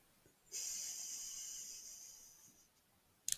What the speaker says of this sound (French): J'inspire avec ma narine droite et j'expire avec ma narine gauche.